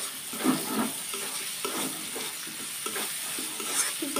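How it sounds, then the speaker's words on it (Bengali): Chopped carrot frying with softened onion in a pan, a continuous close sizzle broken by regular scraping strokes of a spatula, with no voices. "গাজরটা একটু ভেজে নেব।"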